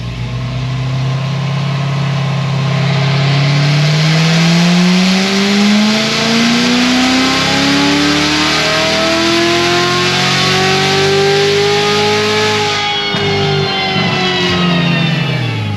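A Corvette C7 Z06 fitted with a cam and ported supercharger revs hard and loud for a long stretch. Its engine note climbs smoothly, holds high with blower whine, then drops back toward idle near the end, close up with no talking.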